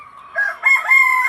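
A backyard chicken clucks and crows in one short, close, clear call rising in pitch, with no other sound around it.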